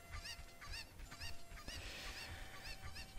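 Chickens in Zelda Ocarina of Time give short, honking clucks in scattered bursts, about a dozen calls over a few seconds, fairly faint against a quiet game background, with a sudden loud thump at the very end.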